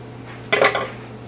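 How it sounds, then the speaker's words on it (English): A knife cutting a mamey apple on a plate, heard as one short scraping clink of blade against dish, close and clear over a quiet background. "Well, cut ourselves some slices here."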